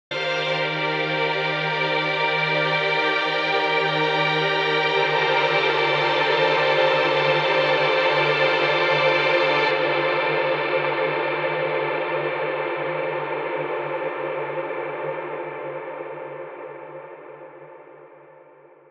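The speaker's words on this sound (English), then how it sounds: "This Mellotron V string sound will be a great one to showcase this." Lush sustained Mellotron V string chords ring out, then fade slowly into a long, wide reverb tail.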